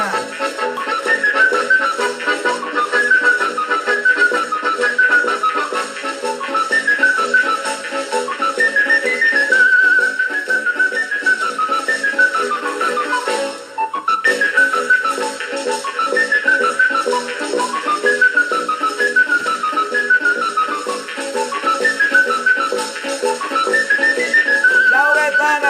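Lively Sicilian tarantella folk tune played in a cheerful, bouncing melody with a whistle-like lead line repeating quick rising and falling phrases over steady accompaniment, loud and continuous with a brief dip midway.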